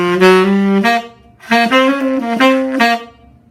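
Tenor saxophone playing a short middle-school jazz etude phrase, close and clear, with two bursts of connected notes separated by a brief pause, heard alone.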